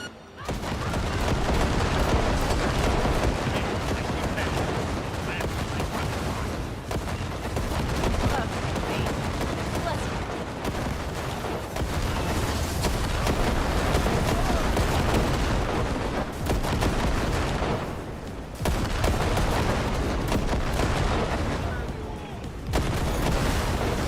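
Sustained combat gunfire rattles through a Cyberpunk 2077 firefight, dense automatic bursts and booming shots with only brief pauses between volleys, loud and close, with some game voices mixed in.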